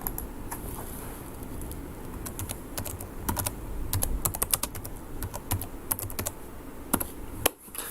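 Rapid typing on a computer keyboard, close and fairly loud, with irregular bursts of clattering keystrokes over a low room hum and a brief pause near the end.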